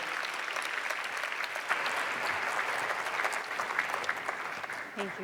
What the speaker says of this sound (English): One more round of applause for our Lieutenant Governor of Mexico.